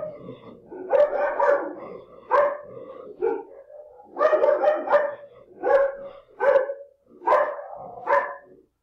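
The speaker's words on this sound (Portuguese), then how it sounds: "tem um cachorro latindo aqui." A dog barks repeatedly in short bursts, fairly close and loud, with brief pauses between the groups of barks.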